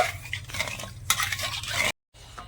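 A pot of milk with plenty of sugar, bay leaves and a pinch of salt is stirred as it heats toward a boil. Close scraping and clinking continue steadily, break off for a moment, then resume.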